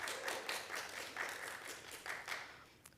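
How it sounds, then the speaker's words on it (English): A lecture audience gives a round of applause at a history talk, quiet and somewhat distant, with an uneven patter of clapping that gradually thins out toward the end. "big round of applause for Audrey Coleman and the team of professionals and volunteers"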